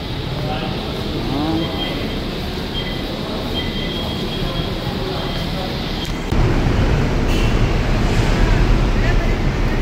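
An MRT or LRT metro train rumbles and rushes steadily nearby, getting louder partway through, with people talking over the noise.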